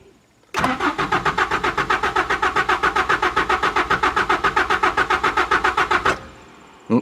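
A Mazda B2600i pickup truck engine cranks with a loud, rapid rhythmic starter churn for about five and a half seconds, then catches and settles briefly, close and with no voices.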